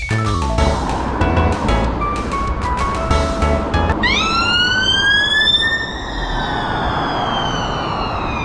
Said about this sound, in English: It was a civil police car. It just started its siren